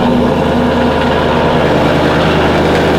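A car engine just after a cold start, idling very loudly inside a garage, a dense, steady low rumble with a faint whining tone that holds throughout without any talk.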